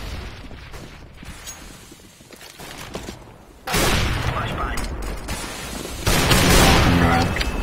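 Grenade and flashbang blasts in CS:GO, two loud bursts of noise landing a few seconds apart with gunfire and mechanical clatter around them, and voices talking over the action.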